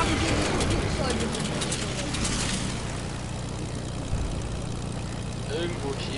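Aircraft in the Fortnite video game give a steady propeller-engine drone that fills the background, with someone talking over it.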